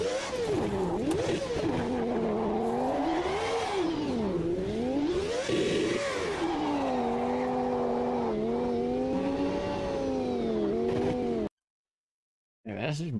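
Race car engine in the Automobilista 2 sim racing game, revving loudly and continuously with rising and falling pitch through gear changes and corners, with someone talking over it, ending in a brief silence and a short final burst.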